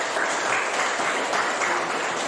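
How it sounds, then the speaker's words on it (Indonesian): Classroom group presentation ends with a burst of steady, dense clapping from the audience, sustained and fairly loud with no speech. "silakan berikan aplaus yang meriah kepada kelompok"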